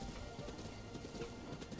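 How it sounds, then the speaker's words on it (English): Horse riding hoofbeats in Breath of the Wild, a continuous clip-clop of galloping hooves blended into a dense outdoor ambience, steady and moderately loud with no talking. "I guess I could let y'all enjoy the ambience of horse riding"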